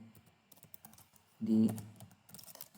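Quick clicking keystrokes from a computer keyboard while C code is typed, scattered taps with a louder burst of keys in the middle, close and fairly quiet, with no talk.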